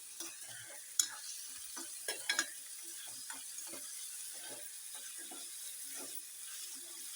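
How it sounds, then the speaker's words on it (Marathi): Onion frying in oil in a pan, a faint, quiet sizzle with intermittent scraping and clicking stirs from a spatula, a few sharper knocks early on, no voices. "भाजून घेऊया कांदा"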